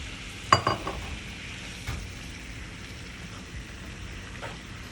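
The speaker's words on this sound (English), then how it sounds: "And then we're just gonna give that a stir." Tripe and beans being stirred in a sizzling pot, a spoon scraping and clinking near the start over a steady background frying hiss that continues quietly alone.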